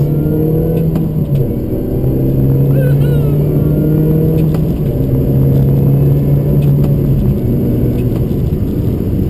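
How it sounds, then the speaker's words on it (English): A supercharged car engine idles and revs nearby, a loud, deep rumble with its pitch rising and falling and a faint whine riding above it. "let's have some supercharger noise."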